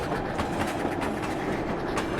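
A train rushes past close by, its cars producing a loud, continuous rumble with a rhythmic clickety-clack of wheels on the rails, and no voices over it.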